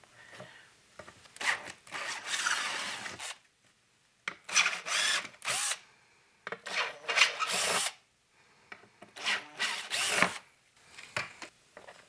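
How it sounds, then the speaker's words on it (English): A drill bores a grommet hole through metal, stepping up through bit sizes, in four or five grinding, whining bursts a second or two long, separated by short silences, close and loud. "we're going to go up one drill bit size at a time until we feel like we get this grommet hole at the size we want."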